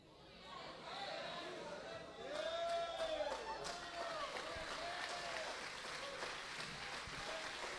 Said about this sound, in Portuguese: E essas palmas vão melhorar, mas tudo bem.